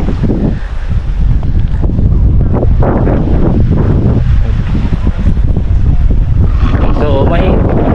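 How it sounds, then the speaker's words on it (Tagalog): Wind gusts steadily across a sunny beach on Boracay, a constant loud rushing roar filling the whole stretch, with voices faintly mixed in. "mainit pero mahangin din naman, kaya okay lang."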